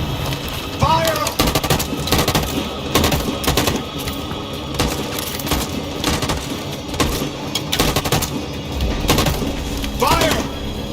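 Gunfire from the video game Detroit: Become Human, rapid loud bursts and volleys of shots in irregular clusters over a busy battle din, with voices shouting now and then.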